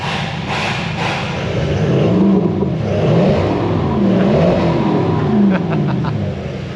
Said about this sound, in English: that's just the standard Toyota with the Torqit exhaust on it